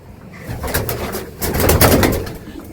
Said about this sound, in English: So often places like this are homes to nesting birds.